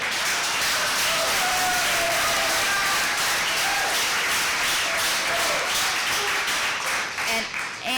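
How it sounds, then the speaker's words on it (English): Steady applause from attendees at a town council meeting, a dense, even patter of many hands clapping for several seconds, easing slightly at the end as a speaker begins talking. "So while y'all are clapping for me"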